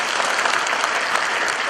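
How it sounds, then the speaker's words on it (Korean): Applause from a church congregation at a Gimpo Christian federation service, a dense, steady clapping that fills the whole moment without any speech over it. "우리 하나님께 영광의 박수"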